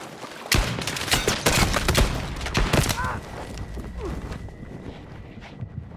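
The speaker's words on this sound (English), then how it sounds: "Shooting with this gun feels so bad sometimes." A gun firing in the Battlefield RedSec battle royale, a quick cluster of loud close shots that tails off into quieter game ambience and scattered footsteps.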